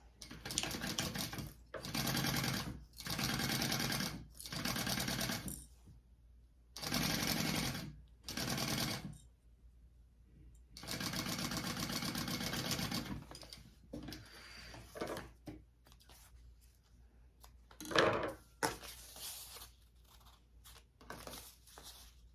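A sewing machine top stitches a handmade bag in repeated bursts of rapid mechanical whirring, separated by short pauses, with quieter handling rustles near the end.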